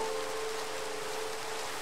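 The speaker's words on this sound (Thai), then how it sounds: "โอ้ฝนตกครับ" Rain in Minecraft, a dense, even hiss of falling water throughout, with a faint steady hum underneath and no other sounds.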